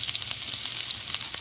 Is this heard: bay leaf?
yes